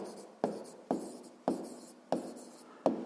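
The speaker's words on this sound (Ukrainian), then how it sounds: "записуємо тоді відповідь" Writing down a maths answer by hand for a Grade 6 exercise, five evenly spaced pen taps on paper, each followed by a short scratching stroke, close and quiet with nobody speaking.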